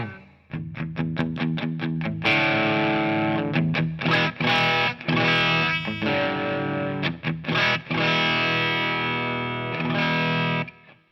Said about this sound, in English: I really like that distortion.